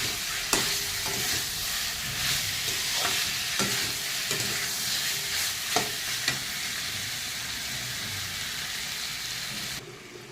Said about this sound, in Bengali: এখন এটাকে দিয়ে আমি ভালো করে কষিয়ে নেব।